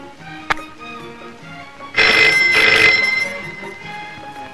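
An old telephone bell rings loudly in a short burst after a sharp click, the metallic trill lasting about a second and fading into a quiet room.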